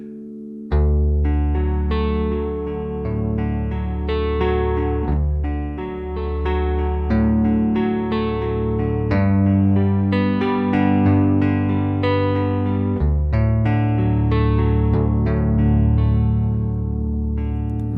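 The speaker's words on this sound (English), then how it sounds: "So I believe that's probably the baritone patch" A warm, low baritone guitar sample patch plays sustained notes and chords with a rich bass register, alone and fairly loud.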